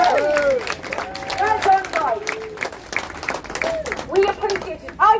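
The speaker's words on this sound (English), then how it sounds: "And fathers, give the fathers a clap." A crowd at a protest claps for the fathers, a lively burst of applause with scattered cheers, while a person speaks over it.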